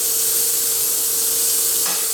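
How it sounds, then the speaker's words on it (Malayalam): Cooking oil heats and sizzles in a pan while mutton mandi is prepared in a pressure cooker, giving a steady, close, even hiss throughout with no talking. "ഇതിലേക്ക് ഒരു ടേബിൾ സ്പൂൺ ഓയിൽ ഒഴിച്ച് കൊടുക്കുക."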